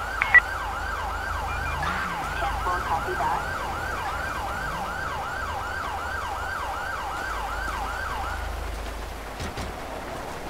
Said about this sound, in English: The ambulance is on scene.